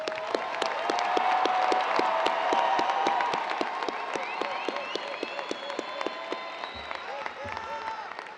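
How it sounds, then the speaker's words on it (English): Sustained applause from a large commencement audience for graduates at the UNT fall ceremony, dense steady clapping filling the hall throughout and tapering slightly near the end, with some voices mixed in. "Let's give these amazing graduates another warm round of applause."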